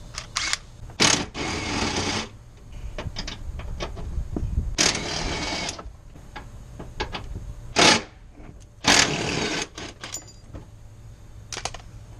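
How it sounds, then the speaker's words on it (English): A 3/8-inch electric drive with a long extension and deep 10mm socket works on a Chevy Cobalt radiator, giving several short, sharp bursts of whirring with pauses between them, close and fairly loud. "be using my 3/8 electric drive long extension with a deep 10mm socket"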